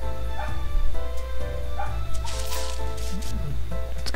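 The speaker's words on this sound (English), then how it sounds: "The dogs are angry again." Neighbours' dogs bark in short yapping bursts, a few sharp barks spaced across the moment with some whimpering yips, fairly close and mixed over steady game music.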